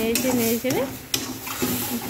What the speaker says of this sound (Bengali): কলার বাকলাটা সিদ্ধ করে মিক্সারে পেস্ট করে রেখেছিলাম তাও দিয়ে দিচ্ছি কড়াইতে দিয়ে ভালোভাবে নেড়ে চেড়ে